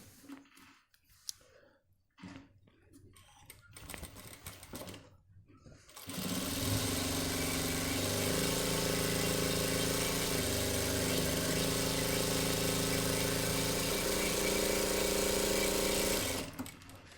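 A sewing machine stitches a shirt sleeve in one continuous, loud run of about ten seconds, preceded by quieter handling and clicking of fabric and parts.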